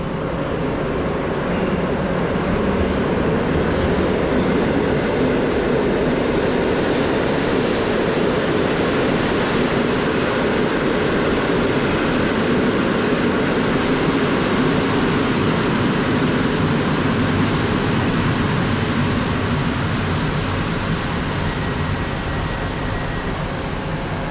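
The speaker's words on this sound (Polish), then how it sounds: "Wjeżdża opóźniony pociąg TLK Lubomirski z koło brzegu do Zakopanego" A delayed TLK Lubomirski intercity train rolls into Kraków Główny station, a steady, loud rumble of wheels and carriages on rails with faint high squeals, continuous for the whole stretch with no talk.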